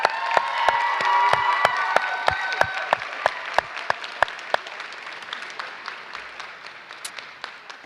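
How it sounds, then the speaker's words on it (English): Audience applause fills a commencement ceremony for a community college class, with sustained clapping and cheering that gradually thins, sharp individual claps standing out near the front. "Give yourselves a round of applause."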